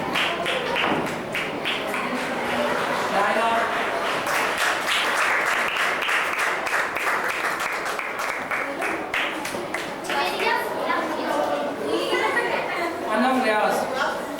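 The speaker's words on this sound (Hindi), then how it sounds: "तालियां तो बजाओ लड़की" Audience clapping at a school event, bursts of applause and scattered hand claps rising and falling over several seconds, mixed with chatter and talking voices throughout.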